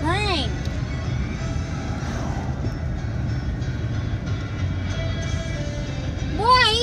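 A long CSX freight train rolls past with a steady low rumble and clatter of railcars, while people talk over it throughout and a horn-like tone sweeps in near the end.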